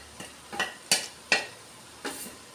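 Crushed dried chilli and black pepper powder are stirred in a pan over heat: five separate, sharp scraping clicks of a utensil against the pan, spaced unevenly, with little continuous sizzle between them.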